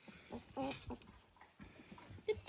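A young puppy from a litter growls faintly and makes small whimpering sounds in short, scattered bursts, all quiet and close.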